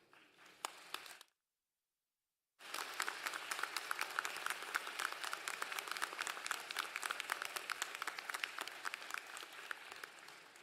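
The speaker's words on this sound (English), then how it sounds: "Graduates, this is your time to rise and express your most heartfelt appreciation with a round of applause to thank these special people for their support." Graduates at a university commencement ceremony break into a long, loud round of applause after a short silent gap, with dense clapping from a large crowd that holds steady to the end.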